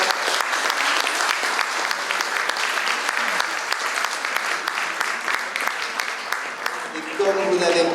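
An audience applauds after a stage performance, a dense, sustained round of clapping that stays loud throughout and swells slightly at the end.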